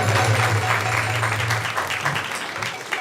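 Temple congregation at ISKCON of Silicon Valley giving a big round of applause after a kirtan, a loud, sustained crowd of clapping with a low steady hum underneath for the first half.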